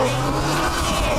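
An SUV with its stability control switched off strains against an obstacle, its engine droning steadily while the loaded wheels slip and scrub without gaining grip, close and continuous throughout.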